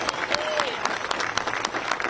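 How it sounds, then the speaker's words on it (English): Audience applauding at a Christopher Columbus statue unveiling in Johnston, a moderate crowd clapping steadily with scattered sharper claps, sustained over a couple of seconds with a faint voice briefly audible. "Another round of applause, I think, is warranted for that."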